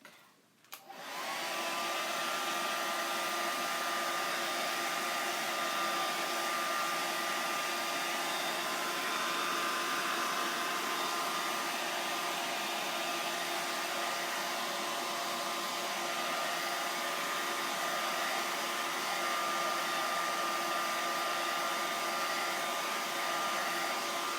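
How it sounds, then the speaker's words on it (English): A hair dryer blows steadily on a 10-inch round double-sided chalkboard, a loud continuous whir with a steady tonal hum that starts after a brief click and runs uninterrupted, close and alone. "I'm going to blow dry this really quick."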